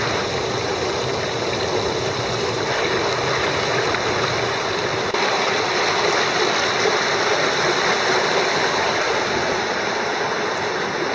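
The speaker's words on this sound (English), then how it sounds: "Rivas Creek is flowing." Reavis Creek flows steadily along a morning hiking trail toward Reavis Falls, a constant broad rushing wash of water that stays loud and unbroken throughout with no voices.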